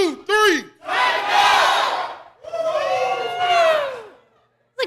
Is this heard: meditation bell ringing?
no